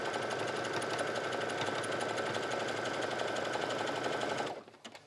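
A home sewing machine runs nonstop, stitching the casing on kids' leggings with a fast, even mechanical chatter, close and loud, before stopping abruptly just before the end.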